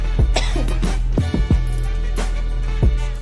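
A few short coughs and throat-clearing bursts, close and fairly loud, spaced irregularly through a quiet indoor moment before a punk music talk show recording.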